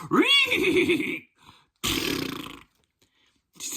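A man vocally imitates a horse whinny: a loud, rising-and-falling squealing neigh, then a second burst of breathy whinnying after a short pause, and the start of a third at the end.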